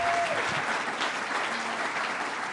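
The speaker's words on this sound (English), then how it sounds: "Let's give her one more round of applause" A crowd at a government press event claps steadily through a short stretch, a moderately distant, even roar of applause with no talk over it.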